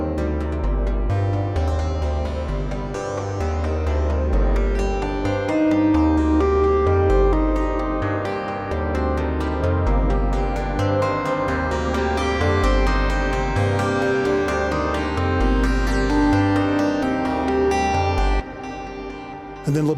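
A dense analog-synth piece: a pulsing bass sequence repeats in a steady stepped rhythm beneath brighter interlocking melodic sequences, loud and continuous before a brief dip near the end.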